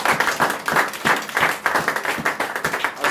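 A church congregation applauding together, steady rhythmic clapping in pulsing waves from many hands, fairly loud and close, with no speech over it.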